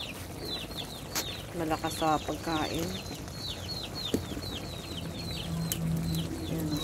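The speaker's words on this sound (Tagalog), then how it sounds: "Andito guys yung aming 4 na malalaking manok." Chickens clucking and chirping in a backyard, scattered short calls repeating through the scene under steady ambient noise, with a person talking over them briefly.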